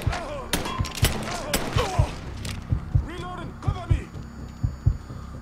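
Repeated gunshots in the Mafia III video game, a steady run of sharp, close bangs roughly every half second over a low hum, with a few voice-like sounds mixed in.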